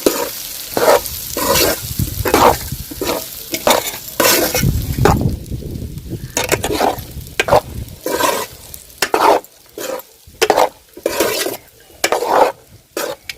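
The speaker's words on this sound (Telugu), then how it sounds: "అన్నం వేసిన తర్వాత ఇట్లా కలుపుకుందాము" Rhythmic scraping and clinking as cooked rice and potatoes are stirred together in a pan for aloo rice, with a light frying sizzle between the loud, close strokes and no talking.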